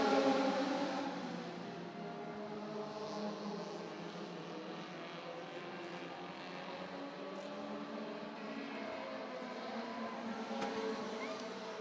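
Mini stock race cars on the oval at Redwood Acres Raceway, a continuous droning engine roar from the pack heard at a distance, rising and falling slightly as the cars circle.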